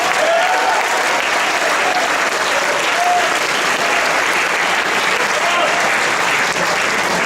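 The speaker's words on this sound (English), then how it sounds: "can we give a big round of applause to our stage manager, Akri Amir, please" A theatre audience at a boys' Shakespeare competition awards ceremony gives a loud, dense, unbroken round of applause for the stage manager, many hands clapping together for over seven seconds.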